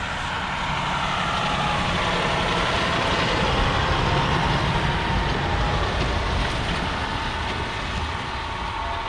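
A snow trail groomer engine runs with a steady, loud mechanical rumble, heard continuously and close by throughout, with no talk over it.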